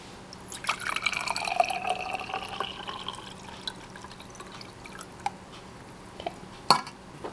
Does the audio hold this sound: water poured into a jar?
yes